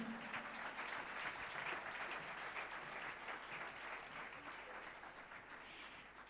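Church congregation applauding to welcome visiting pastors, a broad, steady wash of clapping that continues evenly and fades slightly toward the end.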